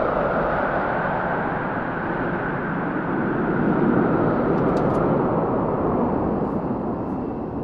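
A broad, steady roar of Blue Angels military jets passing overhead, sustained and fairly distant, with no talking.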